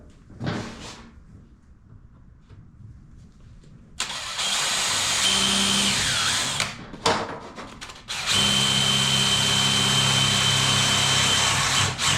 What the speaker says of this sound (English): I don't want to drill into that box.